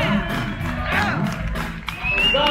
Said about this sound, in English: round of applause for Brother Tom Brick and Mr. Jeff Berlin for stopping by and having fun with